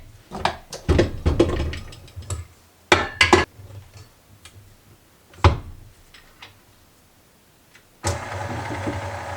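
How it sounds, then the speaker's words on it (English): Bursts of mechanical whirring and clattering from a stand mixer making banana bread start and stop several times, then a steady motor hum runs near and loud at the end. "I'm going to go ahead and crank up my mixer"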